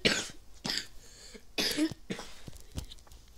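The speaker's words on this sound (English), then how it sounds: "I really hope I stop freaking coughing." Several harsh, separate coughs come close to the mic in quick bursts, with short pauses between them and a throat-clearing quality, from someone playing Madden 22 Mobile.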